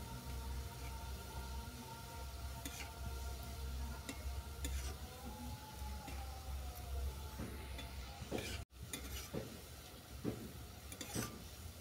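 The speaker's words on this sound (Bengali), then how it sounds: "বোঁদেগুলো ভাজার সময় আঁচ বাড়িয়ে দিলে হবে না, মাঝারি আঁচে ভেজে নিতে হবে" Boondi made from fruit batter fry in oil over medium heat, giving a soft, continuous sizzle with occasional scraping and ladle clinks. One sharp break cuts through near the end.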